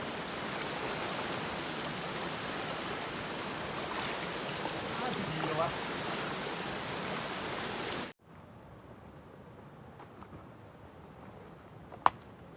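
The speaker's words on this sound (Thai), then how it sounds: "ฝนตกมาตลอดเวลา" Steady rain falling in a forest near a stream, a dense hiss that cuts abruptly to a much quieter patter of drops, with a brief sharp knock near the end.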